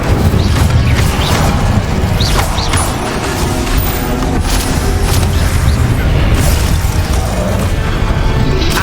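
An Incendio fire spell in the Hogwarts Legacy video game bursts amid a loud, continuous clash of combat booms, crashes and magical impacts, dense and close with no pause.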